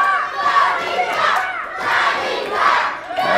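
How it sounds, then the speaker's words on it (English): Crowd cheering and shouting at a live wrestling event during a European Championship bout, a loud sustained roar that swells in three waves with no clear speech. "Still cheering for Danny."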